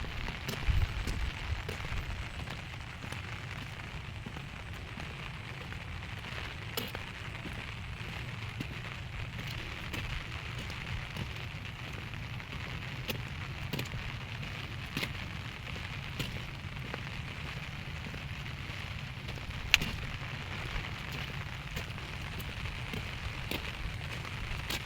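A soft, continuous patter of rain falls at a distance, with scattered crackly drops and a few sharper ticks breaking through the even, quiet wash.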